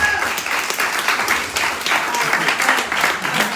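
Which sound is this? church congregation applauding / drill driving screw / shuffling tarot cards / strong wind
church congregation applauding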